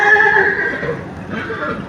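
A horse whinnies loudly and close, a long neigh sliding down in pitch, while a person talks nearby; the horse is being washed outdoors before a show.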